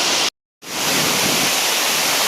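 A waterfall at Nikhaloy in the Chechen mountains roars as a loud, dense, steady rush of falling water, broken only by a brief cut to silence near the start.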